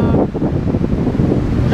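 Niagara Falls roars as a dense, loud, continuous wash of falling water, heavy in the low end and buffeted by wind, with no talking.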